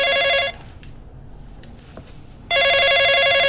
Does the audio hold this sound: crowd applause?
no